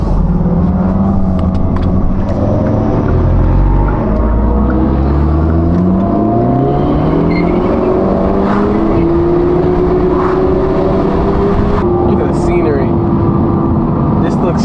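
A Hyundai Elantra N with Valvetronic exhaust accelerates on a supercar rally, engine note climbing through several rising gear pulls, loud and close, with people talking excitedly over it.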